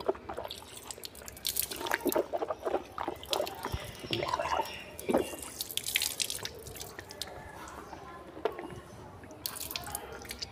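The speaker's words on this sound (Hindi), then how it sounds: "तो आप 3 मरतबा कुल्ली कर लें।" Water splashes and drips irregularly during wudu as the mouth is rinsed three times, close and fairly quiet, with trickling from a tap between the splashes.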